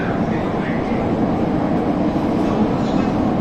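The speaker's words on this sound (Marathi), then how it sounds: "कारण ही अंडरग्राऊंड मेट्रो आहे" Underground metro train running through a Mumbai tunnel, a steady dense rumble and roar heard from inside the carriage, continuous and fairly loud.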